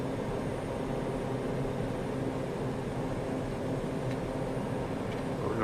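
A video game airplane engine throttling down on a landing approach, a steady, droning roar with broadband wind-like hiss and no obvious change in level.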